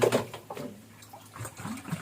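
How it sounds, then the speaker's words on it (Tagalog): Water runs from a household tap in a kitchen, a soft broadband wash at moderate level with uneven surges and a few brief bumps and knocks mixed in. "May tubig guys."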